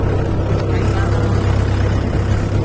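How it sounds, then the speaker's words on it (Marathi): Tractor engine rumbling steadily and loudly up close as it drives out of a farm field after soybean sowing, a continuous low motor drone with no pauses. "आता ट्रॅक्टर काढायला रानाच्या बाहेर म्हणजे काढले सुद्धा."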